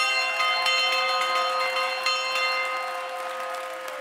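A market bell rung repeatedly, with bright overlapping chimes ringing out and sustaining over a faint background of crowd noise.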